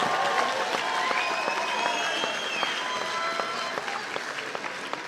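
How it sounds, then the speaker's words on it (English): Graduation ceremony audience claps as the class of 2025 turns their tassels, a sustained wash of many hands in a large hall, moderately loud and steady, with faint crowd murmur and a few whoops mixed in. "Round of applause"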